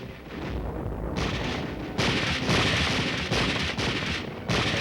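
Heavy live-ammunition gunfire and blasts during military street-fighting training roar continuously, with dense overlapping bursts and repeated louder surges.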